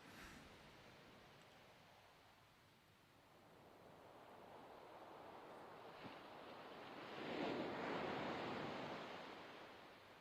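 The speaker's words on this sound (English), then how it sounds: "And as you're listening to the waves" Ocean waves break and wash in a steady broadband rush, swelling louder near the end as a bigger wave rolls in, with some wind across the microphone and no voices.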